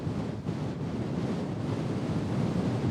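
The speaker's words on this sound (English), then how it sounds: "As you can see, very windy." Strong wind on Dartmoor roars and buffets continuously, a loud rumbling gust noise that fills the whole clip.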